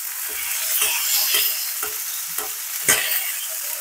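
Butter-basted steak sizzling steadily in a hot pan, a broad continuous frying hiss with a series of soft spoon taps and splashes roughly every half second as the melted butter is spooned over, close and moderately loud with no talking.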